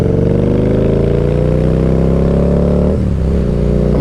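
A 2017 Harley-Davidson V-Rod Night Rod motorcycle engine revs loud and close, its pitch climbing steadily for about three seconds before dropping off sharply as the rider shifts gears, then pulling again.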